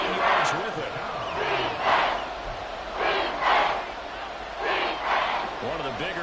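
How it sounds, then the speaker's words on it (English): A stadium crowd in the Madden 24 American football video game roars in repeated swelling waves ahead of a big third down, the cheers rising and falling every second or so beneath commentary. "The crowd getting into it as we come up on a big 3rd down"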